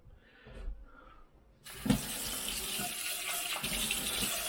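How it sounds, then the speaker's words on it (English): Tap water suddenly gushes on and pours steadily into a pot, a loud continuous rushing splash following a quieter stretch of room noise and small clinks. "Need some water in that pot, maybe about that much."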